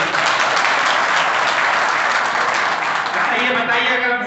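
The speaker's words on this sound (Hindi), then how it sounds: "अपने लिए ताली फिर से बजा लीजिए" An audience at a Brahmin community religious gathering applauds loudly and continuously, dense clapping filling the hall before tapering slightly at the end.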